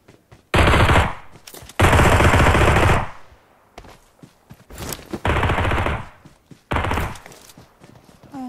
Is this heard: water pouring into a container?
no